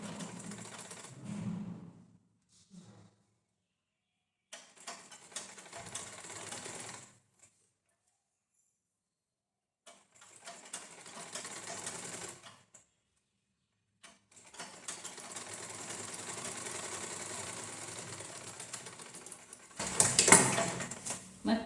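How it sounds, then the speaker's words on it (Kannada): Close by, a sewing machine stitches a 1/4-inch seam on a lined blouse in several bursts of steady fast whirring, split by pauses, with a sharper clatter near the end. "ನೋಡಿ ನಾನು ಇವಾಗ ಸ್ಟಿಚ್ ಶುರು ಮಾಡ್ತೀನಿ"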